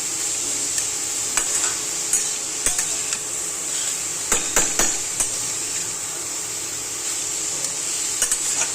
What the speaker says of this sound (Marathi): हा चांगला हे तुपामध्ये ना फ्राय होऊन द्यायचा.